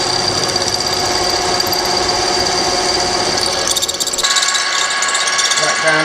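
An 11-inch Harrison lathe drills into a workpiece during a refurbishment, running with a loud, steady mechanical whir and whine that shifts in tone near the end as the drill engages, with no talk over it.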